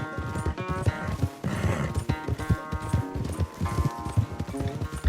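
Galloping horse hooves in a Western video game race, a steady rapid clip-clop rhythm that stays close and loud throughout, with harmonic orchestral music playing underneath.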